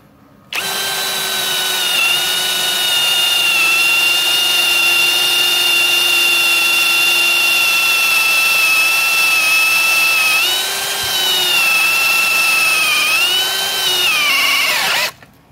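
A Ronix 8900K cordless brushless drill spins up and holds a steady, loud high whine for over ten seconds, dips briefly as if under load, rises again, then winds down to a stop.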